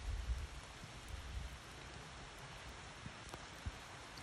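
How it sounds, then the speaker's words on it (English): Steady rain falls outdoors at a roadside attraction in Piercy, California, a soft, even hiss with a few low thumps and scattered drips near the start. "Even though it's raining out, it's still a nice day."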